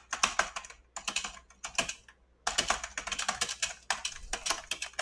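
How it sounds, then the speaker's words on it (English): Clicky keystrokes on an IBM Model M mechanical keyboard come in fast, close bursts, with a brief pause near the first second and a longer gap midway before steady typing resumes. "this is the sound that a good keyboard makes"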